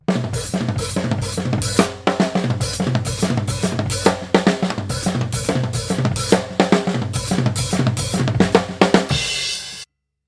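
A drum kit plays a busy, steady groove with crisp snare hits and cymbals for several bars, then stops abruptly.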